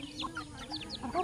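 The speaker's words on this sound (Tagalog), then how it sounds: "Tinutuka naman ng mga manok, eh." Chickens clucking as they peck at leftover spoiled rice outdoors, with a few soft, scattered clucks over a faint background murmur.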